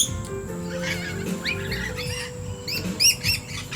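Corellas and other birds calling at a bird sanctuary: repeated sharp chirps and squawks, some near and loud, over a steady outdoor background hum, with calls clustering more densely toward the end.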